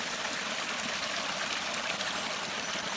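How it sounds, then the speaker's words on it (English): A small stream of water trickles steadily beside a dry, hot hiking trail, a close, even hiss and babble with no pauses and no voices. "there are lots of these little streams"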